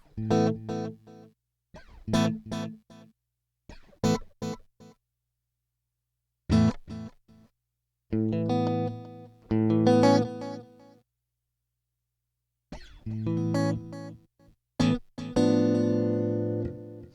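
Electric guitar through a Line 6 Helix delay with trails enabled, playing several short bursts of chords and notes that ring out and decay between phrases, loud and clear with no talking.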